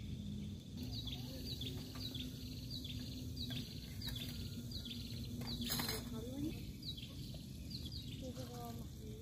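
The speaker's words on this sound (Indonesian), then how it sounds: "terdengar suara-suara burung" Morning birds chirp in a pine forest at Kebon Pines, Lembang, with repeated short high calls over a faint steady background hum, fairly distant and soft.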